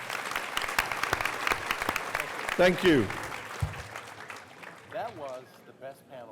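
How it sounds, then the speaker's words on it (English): An audience claps for a discussion panel at an annual convention talk show: dense, steady applause fills the first few seconds, then fades as a voice speaks over the tail. "let's give a big round of applause to this panel for coming here today"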